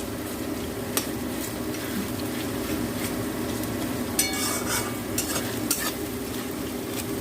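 Tomatoes added to onions sizzling in a pan for mutton kasha, a Bengali curry, give a steady close frying hiss with stirring and a few sharp clinks and scrapes of a utensil against the pan.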